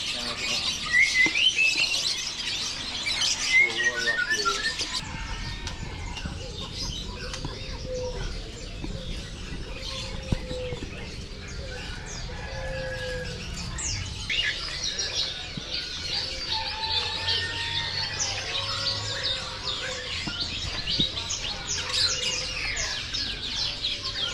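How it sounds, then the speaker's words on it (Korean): Birds chirp and call outdoors in Yogyakarta, Indonesia, with repeated bright tweets from several directions over a steady background murmur of the surroundings. "새에 대해 잘 몰라서 이 새들이 무슨 종인지는 잘 모르겠습니다."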